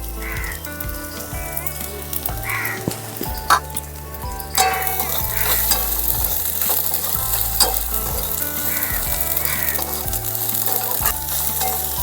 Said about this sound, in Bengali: সামান্য একটু ভাজা ভাজা করে আমি এর মধ্যে এখন গুঁড়ো মশলা অ্যাড করে দিচ্ছি